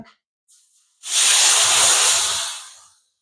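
A loud, steady hiss of water poured onto hot jaggery in a pan rises abruptly after a brief quiet start, holds for about two seconds, then fades out, with no talking.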